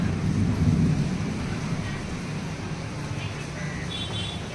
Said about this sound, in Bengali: হঠাৎ করে এক পশলা বৃষ্টি হয়ে গেল